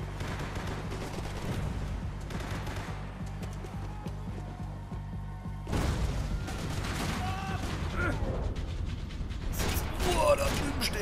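Max Payne 3 gunfire crackles in bursts over a dense mechanical din, with louder volleys breaking out in the second half.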